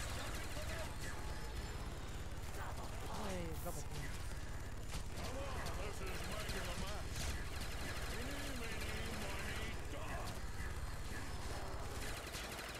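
Rapid gunfire from the Death Machine in Black Ops zombies, a dense, continuous burst of shots running under game noise and chatter for the whole stretch, fairly faint overall.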